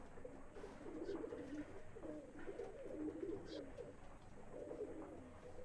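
Madrasi pigeons coo softly in a steady, repeated rhythm, with faint chirps and low background noise around them.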